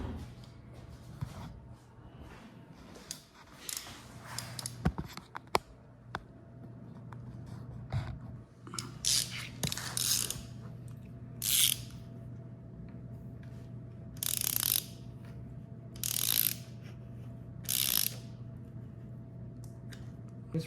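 A ratchet on a 6-inch extension works on a KTM 50 engine case during clutch removal. Several short bursts of clicking strokes come in spaced groups over a low steady hum.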